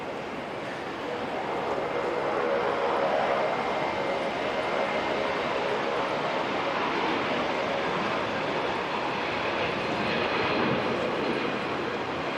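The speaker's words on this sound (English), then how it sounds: "NZ948 to Rarotonga" An Air New Zealand airliner, flight NZ948, departs Auckland Airport bound for Rarotonga, producing a steady, broad engine roar that holds at a fairly constant level for the whole stretch, with no voices heard.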